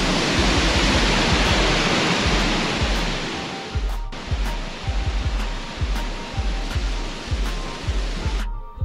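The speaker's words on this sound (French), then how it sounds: "Je crois que là on est dans la cascade." Rushing water roars loudly and steadily at a waterfall on a via ferrata hiking trail, a dense broadband wash with repeated low thumps, likely from wind or handling, and no talking.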